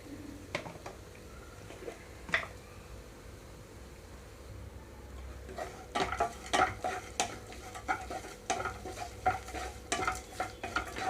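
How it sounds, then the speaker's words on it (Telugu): Grated coconut frying in a pan for coconut rice, with repeated scraping and stirring strokes over a soft sizzle, growing busier and more rhythmic in the second half. "ఒక గ్లాసుకి రైస్కి పావు చిప్ప వరకు కొబ్బరి తీసుకున్నాను కొంచెం వేయించుకుంటున్నాను"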